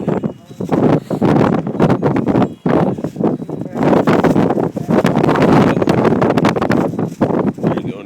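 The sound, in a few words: wind blowing into the microphone outdoors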